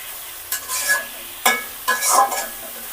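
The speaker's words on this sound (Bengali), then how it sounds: "তারপর সবজিগুলো ঢেলে দিব।" Vegetables tipped into spiced masala frying in a pan, then stirred: a few scraping stirs and clatters over a steady close sizzle, with no voices.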